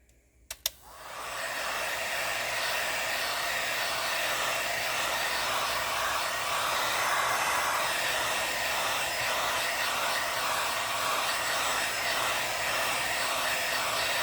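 A hair dryer blows on a handmade craft desk art piece, switching on after a click and a brief thump, then running as a loud, steady, breathy roar that continues unbroken to the end.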